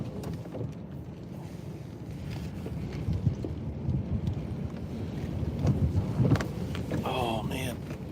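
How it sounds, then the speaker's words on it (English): Strong gusting wind buffets a microphone outdoors during severe weather near Willows, California, a steady low rumble with louder surges, while someone talks now and then over it. "Dang, that wind is crazy."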